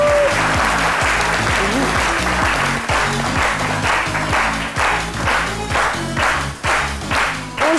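Studio audience on a midday TV show applauding an arriving guest, sustained clapping over a loud rhythmic music beat that carries on throughout.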